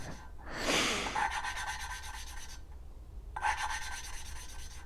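Valves of an inline four-cylinder Suzuki GS 1100 E engine being lapped with grinding compound make a close, gritty rubbing in two sustained passes separated by a short pause.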